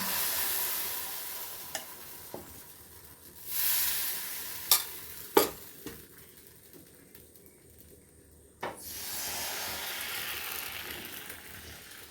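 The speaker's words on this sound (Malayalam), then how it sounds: "ഇനി ഓരോ തവി മാവ് വീതം കോരി ഒഴിച്ച് ഇതൊന്ന് ചുറ്റിച്ച് നമുക്ക് അപ്പം ചുട്ടെടുത്താം" Little millet appam batter ladled into a hot pan, giving a soft steady sizzle that swells with each pour, alongside a few sharp clicks and scrapes of the ladle against the pan. No one speaks.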